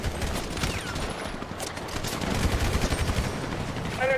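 Rapid automatic gunfire in a World Cup–themed team shooter match, a dense run of bursts and volleys that continues for several seconds at moderate level, with no talk over it.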